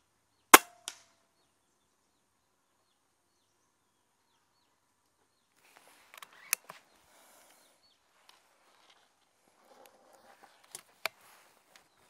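A Diana Outlaw Gen2 air rifle fires at a 50-metre target: one sharp crack near the start, then a few faint scattered clicks and soft handling noises, with two small snaps late on.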